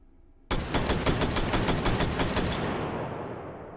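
A SPAS-15 compact shotgun with a shorter barrel fires in the VR game H3VR, letting off a rapid, loud string of shots for about two seconds that then trails into a fading echo.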